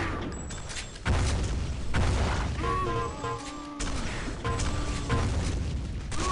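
Rocket explosions in the arena shooter Sauerbraten during a 1v1 duel: several loud booming blasts in quick succession, broken by sharp weapon clatter and metallic pickup chimes, with no talk.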